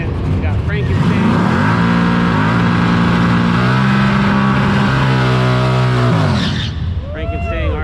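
A pieced-together junkyard Mustang races a nitrous-fed Fox body notchback race car, engines roaring loud and steady with shifting revs for several seconds before easing off, voices faintly audible beneath.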